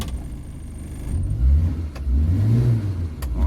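A 2002 Suzuki Carry Careta engine runs steadily up close, with low humming that rises and falls in two gentle revs.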